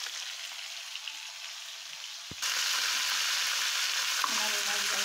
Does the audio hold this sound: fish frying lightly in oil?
yes